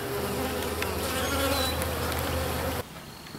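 A honeybee swarm fanning and buzzing inside a hive makes a loud, steady, close drone that cuts off sharply near the end as a lid goes on.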